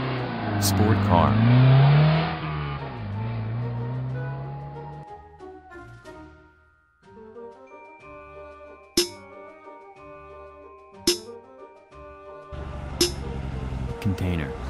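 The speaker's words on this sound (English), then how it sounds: "Sport car." A sports car engine revs hard and close for about five seconds, its pitch sweeping up and down, then gives way to light chiming music.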